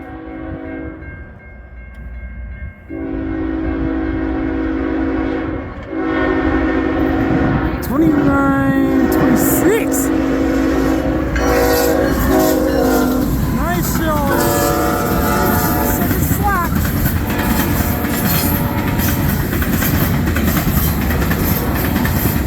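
A CN freight train hauling Canpotex potash loads at Ladysmith rolls past, led by a Tier 4 locomotive with a Dash 9 second and a distributed power unit, sounding a loud, sustained horn over steady wheel and car roar.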